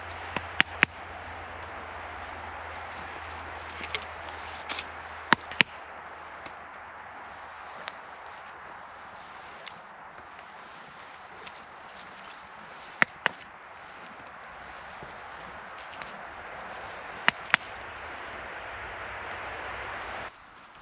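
A small campfire burns in the snow on a solo winter camp, with a soft, continuous low crackle and scattered sharp pops and snaps at irregular intervals.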